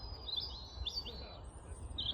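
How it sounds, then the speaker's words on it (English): Bird caught on a fishing line at a carp fishery, giving a few faint high chirps and squeaky calls over low outdoor rumble, no speech. "It's a bird."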